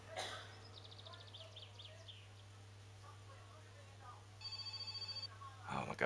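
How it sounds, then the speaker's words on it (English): Telephone ringing in the video game My Summer Car, heard as a short burst of repeated electronic rings partway through, at moderate level over a low steady hum, with chirpy sounds and a voice talking around it. "so let's answer this phone"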